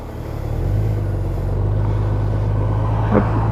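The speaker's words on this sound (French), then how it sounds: "quand on veut repartir, on enclenche la vitesse et on part" A Honda 1800 DCT motorcycle engine settles into a steady low rumble as it engages gear and pulls away, a continuous close drone with a faint brief click near the end.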